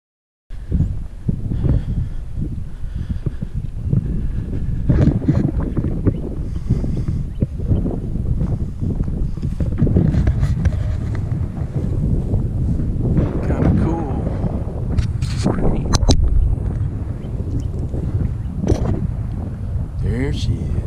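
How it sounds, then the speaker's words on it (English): Strong wind gusts buffet the microphone outdoors, a steady roar that runs through the whole stretch with people talking over it. "that wind's blowing today"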